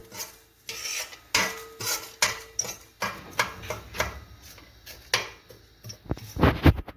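Whole spices dry-roasting in a pan for mutton Moghlai, with a ladle scraping and knocking against the metal in uneven strokes over a faint sizzle, close and alone.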